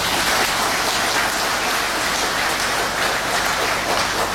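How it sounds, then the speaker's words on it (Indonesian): Congregation applause at a diaconate ordination in Batang Tarang fills the space as a dense, steady wash of clapping, loud and continuous throughout with no gaps. "Tepuk tangan buat mereka."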